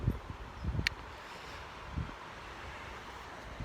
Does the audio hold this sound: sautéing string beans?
no